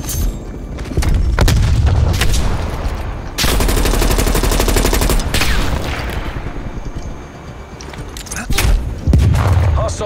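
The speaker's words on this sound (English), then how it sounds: "Hostile artillery targeting active." An artillery strike in Call of Duty Black Ops Cold War multiplayer delivers loud, repeated booms and crackling impacts. Dense bursts of gunfire run around them, and the barrage stays heavy for most of the stretch.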